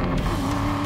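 Cheap worn-out supercar with a harsh suspension driving at about 50 mph in desert heat, a steady loud engine and road roar heard briefly from inside the car, no talking.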